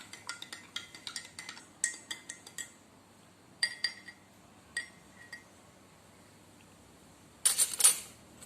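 A metal spoon stirring a solution in a glass clinks and taps in a quick, irregular series, then a few isolated clinks follow after a pause, close and bright.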